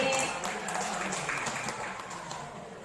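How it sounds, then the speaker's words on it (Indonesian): Applause breaks out for Bu Yani at a school teachers' training session, a steady, dense wash of many hands clapping that stays fairly even and slowly fades over a few seconds. "Aplaus dulu Bu Yani"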